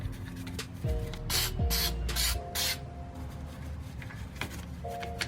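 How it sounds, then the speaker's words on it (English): Four short bursts of brake caliper cleaner sprayed onto a car's brake caliper, each a close, loud hiss about half a second long, set against a low steady hum. "we're going to be using the caliper cleaner to kind of settle down the dust"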